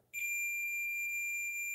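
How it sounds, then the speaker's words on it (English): A continuity tester beeps while checking a connector on a Technics 1210MK2 turntable tone arm, giving one steady, fairly loud high-pitched tone that starts abruptly and holds without a break. "you can hear it beeping, right?"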